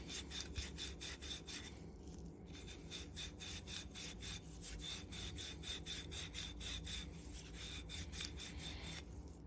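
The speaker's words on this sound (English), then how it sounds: "just a little bit of a Scotch-Brite soaked in WD will be fine for that" Scotch-Brite soaked in WD-40 rubs the magneto points of an NSU Quickly moped in quick, rhythmic back-and-forth scrubbing strokes with brief pauses, close up and alone.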